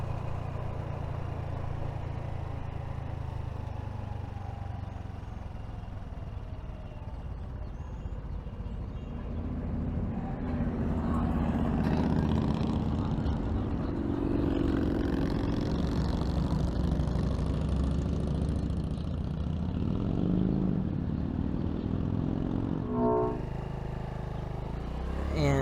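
Honda Navi motor scooter engine running while riding along a parkway, a steady close drone with wind rush, growing fuller and louder partway through as speed rises.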